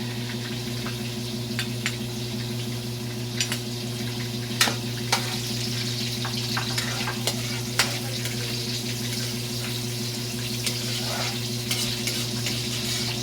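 Onions frying in a pan: a steady crackling sizzle runs throughout, with scattered sharp pops and a few utensil clinks, while a low constant hum sits underneath and nobody speaks.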